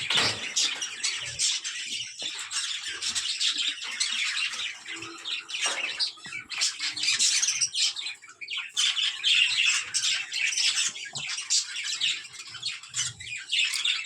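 A room full of pet budgerigars chatters nonstop, a dense layer of high chirps, squawks and warbles from many birds at once, close and continuous with no talk.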